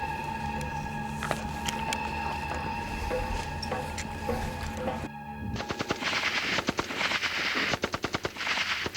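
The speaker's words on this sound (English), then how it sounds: "the TACLETs spend time on the firing range in addition to firing heavy artillery on a moving boat" Machine-gun fire rattles on a military firing range, heard as steady background bursts at first, then loud rapid volleys close by with sharp repeated cracks.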